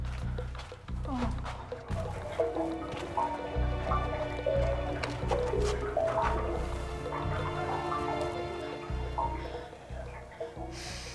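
Salt water from the ocean drips and squishes in a wet, enclosed space, with gurgling liquid sounds and muffled movement continuing throughout, fairly close and moderately loud.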